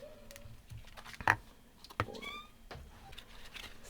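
A pet cat in a home craft room gives a couple of short, close meows, separated by quiet moments with faint rustling and small clicks.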